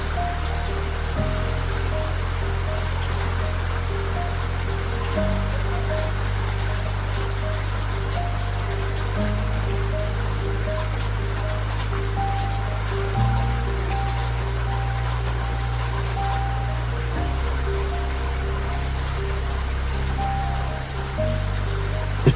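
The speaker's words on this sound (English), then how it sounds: "The rain continues to fall." Steady rain patters against a train window on a coastal express at night, a dense, even hiss of drops over a low rumbling drone of the moving train, continuous and close with no voices.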